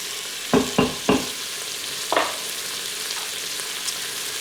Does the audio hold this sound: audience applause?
no